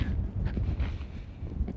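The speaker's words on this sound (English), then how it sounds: "Man, it is windy today." Low, rumbling wind buffets a microphone, a steady muffled roar with gusty surges throughout.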